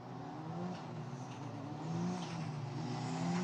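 A Trident-run Formula Regional European Championship single-seater at Monza, its engine droning steadily with harmonic whine that swells louder toward the end as it accelerates, with no voices over it.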